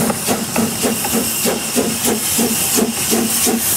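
A working steam locomotive at the Hesston steam museum hisses steadily and loudly up close, with rhythmic chuffing pulses repeating about every third of a second and no talking.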